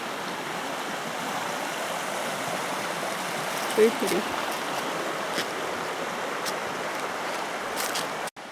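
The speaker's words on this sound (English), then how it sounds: "And the river goes all the way down." A river flows steadily beside a park, a continuous broad rushing wash that fills the whole stretch, with a few brief voices speaking over it.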